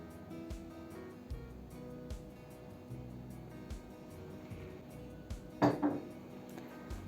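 Sugar and vegetable oil are stirred in a bowl, giving soft repeated scraping and clinks of utensil against the bowl, close and fairly quiet, with a louder knock near the end.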